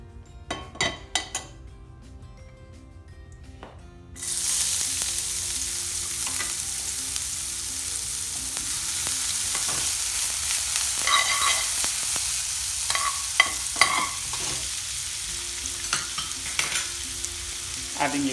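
Oil heats in a pan for Indian restaurant-style mushroom bhaji, starting with a few sharp clinks of utensils before a sudden loud, steady sizzle of frying takes over, dotted with stirring scrapes and light metallic taps.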